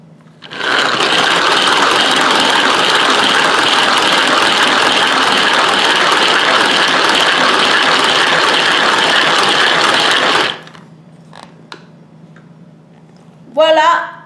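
An electric mixer whipping cream into chantilly for an Oreo cheesecake, a loud steady whirring buzz for about ten seconds before it stops, followed by quiet and a brief later noise.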